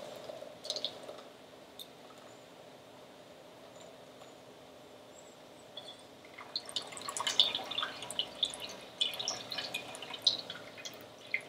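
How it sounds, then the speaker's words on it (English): Watermelon juice drips through a strainer into a container, first as sparse, faint drips and then as a busier patter of close, light droplets over a quiet background. "Let's strain this watermelon to get any of the pulp out."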